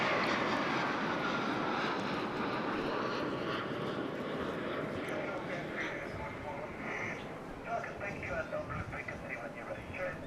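A military jet roars past at an airshow with a loud, broad rushing engine noise that slowly fades into the distance, while a voice talks over it.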